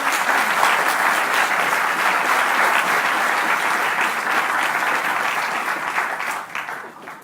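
Sustained audience applause at a labor conference, a steady dense clapping from a large crowd that fades slightly toward the end, with no speech over it.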